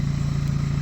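A Lexus drift car engine with a 3-inch exhaust and no catalytic converters hums steadily with a low, throbbing pulse, sounding close and fairly loud, held at a constant pitch rather than climbing.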